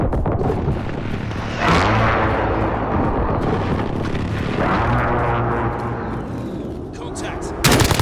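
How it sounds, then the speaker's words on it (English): Airstrike explosions in Call of Duty: Modern Warfare roll in as loud, heavy booms with rumbling tails, several blasts overlapping across the span, with a sharp burst near the end. "Precision airstrike incoming."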